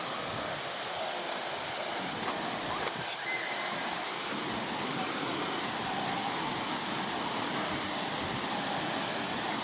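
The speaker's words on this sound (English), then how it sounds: "This is the other waterfall. Usually this has way more water in it." A small waterfall running with unusually little water over sand makes a steady, continuous rushing wash, fairly close and even throughout, with no talking.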